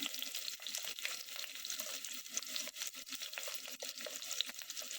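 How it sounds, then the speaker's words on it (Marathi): Sliced onion frying in a pot with chopped green chilli gives a continuous soft sizzle and crackle, faint and steady, with no talking. "कांदा तांबूस रंगाचा होईपर्यंत परतून घ्यायचा आहे"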